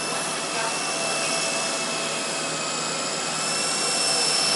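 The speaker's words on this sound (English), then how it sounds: "Doing things like fast forward flight with this helicopter are pretty much impossible for me." A radio-controlled model helicopter flies nearby, its steady whining rotor and motor drone holding at a constant, fairly loud level throughout with no pauses.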